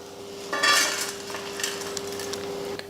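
Golden-fried ingredients for a country chicken curry are scraped from a pan onto a plate, with clinking metal utensil scrapes and light sizzling over a faint steady hum, no talking.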